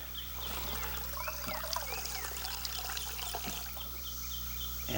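Water trickles and pours into a coffee maker's reservoir at a camping breakfast setup, a soft, close, steady stream over a faint electrical hum.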